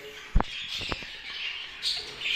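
Show birds give a few short, sharp chirps close by, with quiet room noise and soft handling rustle between calls.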